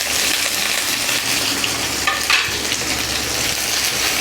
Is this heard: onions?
yes